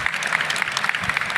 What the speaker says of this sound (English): you get a round of applause for that.